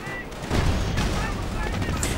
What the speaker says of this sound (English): A high explosive round tears them to bits.